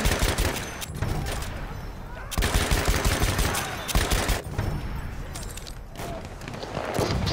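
Dense Battlefield 1 gunfire in a night match rattles on in bursts of rapid shots and machine-gun fire with a few short breaks, loud and near, while voices talk over the fighting.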